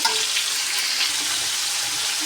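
Meat for biryani frying in oil in a pan, a steady close hiss and crackle with faint stirring, no talking.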